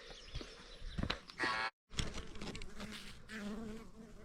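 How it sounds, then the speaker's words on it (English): Bees buzz close among pickle plants on a farm, a steady, faint droning hum with a brief gap, then the buzzing carries on. "Got a couple little bees in there doing their job"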